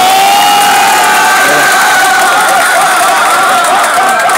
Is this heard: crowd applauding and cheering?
yes